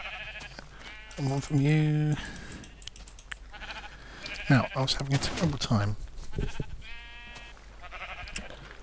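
Sheep bleating in the Minecraft video game, several short nasal bleats heard close and clearly between stretches of someone talking over the gameplay.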